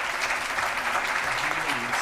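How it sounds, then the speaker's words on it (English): A room full of people at a formal board meeting claps in a steady, dense round of applause that lasts throughout, fairly loud and close, with no talk over it. "Let's give them a round of applause."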